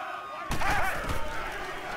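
In the Madden 19 football game, a stadium crowd swells abruptly into loud cheering ahead of a big third down, with a roaring, slightly uneven burst that stays up for the rest of the moment.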